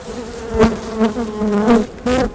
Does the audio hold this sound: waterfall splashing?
no